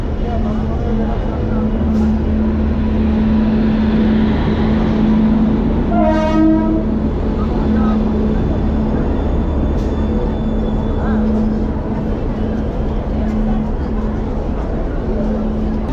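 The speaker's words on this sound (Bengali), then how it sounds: "ট্রেন কিন্তু 2 নম্বর প্ল্যাটফর্মে কিন্তু দিয়ে দিয়েছে, ট্রেন ঢুকছে।" A train pulls into platform 2 at Bandel Junction with a steady heavy rumble and a sustained horn blast midway, loud and close amid station noise.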